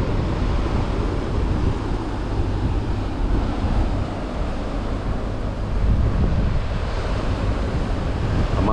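Low-tide sea waves wash continuously onto a beach under strong wind buffeting the microphone, a dense steady roar with no voices.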